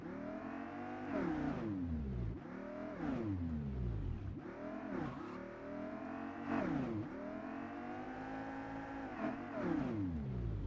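A vehicle engine in the online shooter Farlight 84 revs up and down in repeated surging waves, a whining motor tone rising and falling steadily and close, with no talk over it.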